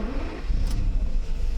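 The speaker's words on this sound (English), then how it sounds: "we can start the vehicle." A Mercedes 600 engine with repaired throttle bodies cranks and catches on a cold start, settling into a loud, steady low rumble with a brief sharp click partway through.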